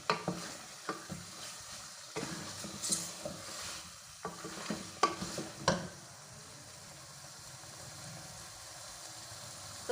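Chicken korma frying in oil in a handi pot with a spoon stirring it, giving a soft sizzle and scattered scraping knocks against the pot that fade into a quieter steady fry.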